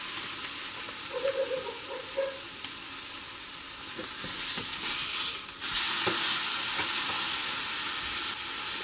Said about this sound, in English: we need to cook fast the salmon from two sides. It cooks 3 minutes.